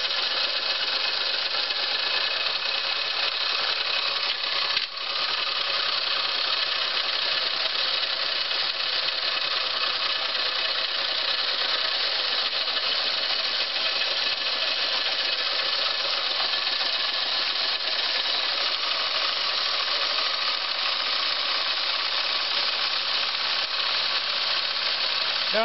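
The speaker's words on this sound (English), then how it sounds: "Now this motor's spinning." A small model steam engine runs steadily, a constant faint mechanical whir and hiss with no clear change over its length and no talk.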